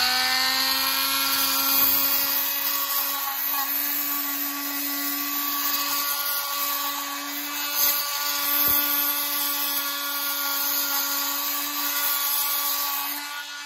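An oscillating multi-tool scrapes old flaking material off a boat trailer with a loud, steady high-pitched buzz that holds for the whole stretch, close by and without speech.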